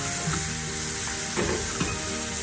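Bread pizza frying in a pan gives a steady, close sizzle with occasional soft scraping and stirring, loud and continuous throughout.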